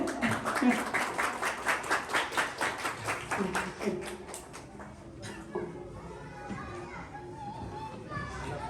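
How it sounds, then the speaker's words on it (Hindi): An audience claps in a steady rhythmic burst at a school prize distribution ceremony, the clapping fading after a few seconds into a general hum of children's chatter and crowd noise. "आप सबकी भरपूर तालियों में बासित अमान साहब से आप स्टेज पर तशरीफ लाएं"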